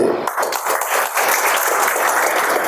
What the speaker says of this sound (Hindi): ताली बजा दीजिए।